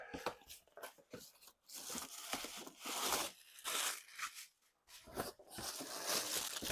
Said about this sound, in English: Let's just cut it open.